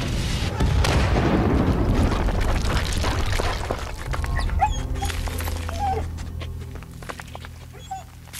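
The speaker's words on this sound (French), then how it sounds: "Oh, c'est un bon toutou, ça." A dog in the World War I video game Soldats Inconnus: Mémoire de la grande guerre whimpers and yips in short bursts, first over a loud rumbling backdrop of explosions, then more clearly as the noise fades.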